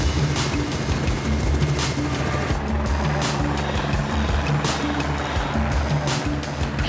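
An anti-poaching patrol helicopter flies overhead with a continuous, moderately loud rotor drone and thrum that holds steady throughout, with no talking.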